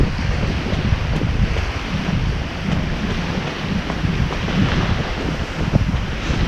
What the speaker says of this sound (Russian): Ветерок теплый, приятный такой.